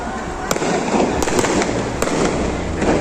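Firecrackers burst around a neighbourhood during a New Year night celebration, with several sharp, loud cracks standing out over a constant wash of distant popping and crowd noise.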